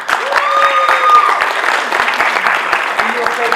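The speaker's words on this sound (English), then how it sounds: "let's give Justin a round of applause." Audience applause fills a comedy night show, a dense, steady wash of clapping lasting several seconds, with a voice speaking over it and a few sharper individual claps standing out.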